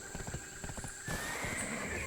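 A horse in the video game Black Desert Online clip-clops along with light, rhythmic hoofbeats, then lets out a loud, sustained neigh that rings out over the footsteps, with no voices.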